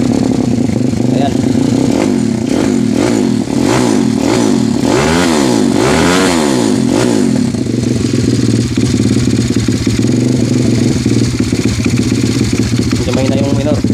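A motorcycle engine fitted with a racing flywheel and an R mag stator runs loud and close throughout, its revs rising and falling in repeated surges before settling into a steady rough idle.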